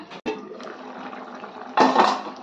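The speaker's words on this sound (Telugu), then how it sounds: "ఇదే కప్పుతో వాటర్ కూడా పోసుకోవాలండి" Water poured from a cup into a pot of tamarind juice while cooking an Andhra-style colocasia tamarind stew, heard as a short splashing pour that swells loudly near the end after quieter kitchen noise.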